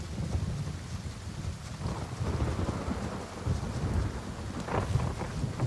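Steady rain pours in a game-world thunderstorm, a dense, continuous hiss with low rumbling thunder rolling underneath throughout, loud and close, with no talking.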